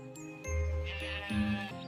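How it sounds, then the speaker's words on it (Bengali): A sheep bleats close up, a drawn-out, wavering call that rises again near the end. "এই প্রাণীটি ভেড়া।"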